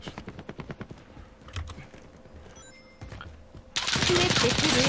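Call of Duty: Warzone battle royale gunfire: a run of evenly spaced, fairly close shots, a quieter lull with scattered sounds, then a sudden loud, dense burst of fire at the end.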